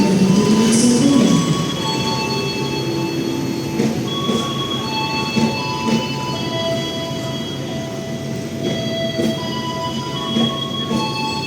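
An Indonesian Matarmaja economy passenger train rumbles steadily along the rails from Malang toward Surabaya, with high metallic wheel squeals drifting in and out, continuous and fairly loud with no voices.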